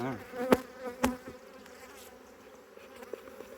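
Honey bees from a nuc hive buzz around the opened box on a rainy day, a steady close drone with a couple of sharp knocks near the start.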